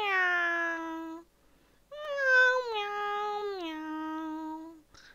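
A cat meows in a morning wake-up call: two drawn-out, clearly pitched meows, the second longer and sliding downward, separated by a short pause and sounding close and loud.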